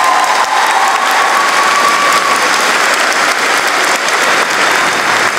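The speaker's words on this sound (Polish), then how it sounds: "ogromne brawa" A large indoor audience at a Betard Sparta Wrocław presentation gives loud, sustained, dense applause throughout.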